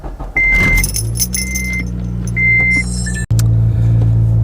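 Cold start of a 2008 Honda Civic Si Coupe engine: keys jangle, a brief cranking, then a loud steady idle settles in, with keys jingling again over it.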